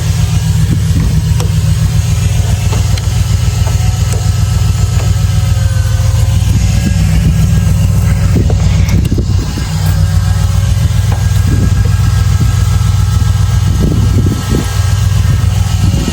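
A 1987 Ford Bronco engine idles loud and close, a steady rough low rumble that holds throughout with slight irregular pulses and no speech.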